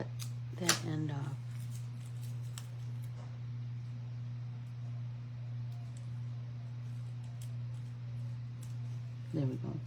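Scissors snip the end off a leaf at a paint party: a quick cluster of crisp, close cuts near the start, then a steady low electrical hum with faint handling noises and one more rustle at the end.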